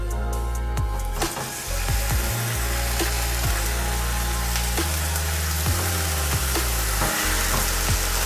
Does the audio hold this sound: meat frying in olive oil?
yes